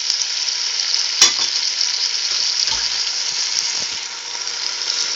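Chopped onion sizzling in a pan for lentils with chorizo and pork ribs, a loud bright steady hiss with a sharp clink of a utensil and some soft stirring knocks.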